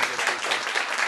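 Brief, steady applause from an audience, a dense and fairly loud patter of many clapping hands with no voices.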